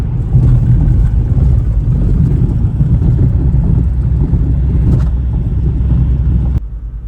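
Loud, steady road rumble inside a moving BMW E46 with damaged suspension, a constant low droning roar that drops off abruptly near the end.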